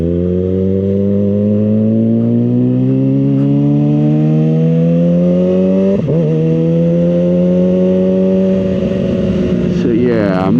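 A SuperSport motorcycle rides through Wilmington, its engine loud and close as the pitch climbs steadily, drops at a gear change, then rises again with a brief rough burst near the end.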